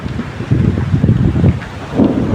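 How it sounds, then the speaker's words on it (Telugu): Thunderstorm with rain and wind, a dense low rumbling roar of rain and gusting wind buffeting the microphone, loud and steady throughout with a swell near the end. "ఉరుములతో కూడిన వర్షం"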